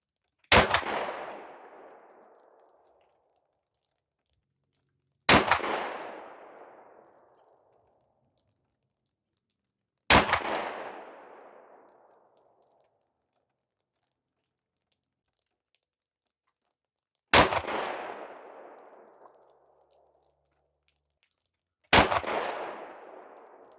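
Five loud, sharp shotgun blasts from a Remington 870 firing Remington Slugger 12-gauge rifled slugs, each spaced about five seconds apart with a fading echo trailing off into silence.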